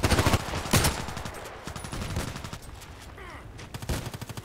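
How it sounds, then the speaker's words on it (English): Mortar fire and gunfire in the online shooter Contract Wars, a run of sharp repeated bursts with heavy blasts at the start and end and a rattling volley of shots in between. "Mortar."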